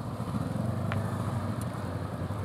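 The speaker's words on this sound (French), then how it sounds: "Fais gueuler le moteur en ligne droite." Motorcycle engine held at steady revs while riding straight on a gentle slope during a U-turn lesson, a continuous loud low drone with no gaps or talk.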